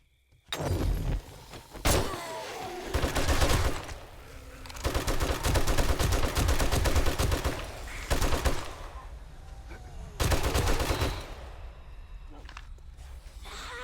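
Video game gunfire in 7 Days to Die comes in loud, rapid automatic bursts with brief gaps between volleys, close and dominant throughout.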